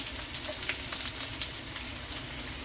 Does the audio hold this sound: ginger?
yes